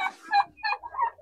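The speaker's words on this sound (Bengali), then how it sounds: "এই হলো আমার টার্কি" A turkey gobbles close by in a quick series of three or four warbling calls, loud and clear against quiet surroundings.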